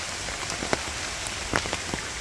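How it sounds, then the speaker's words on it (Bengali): Rain falls in a village, heard from beneath trees that catch the drops, giving a steady soft hiss with a few scattered nearer drips and taps. "গাছের জন্য বোঝা যেতেছে না, বৃষ্টি কিন্তু আছেই"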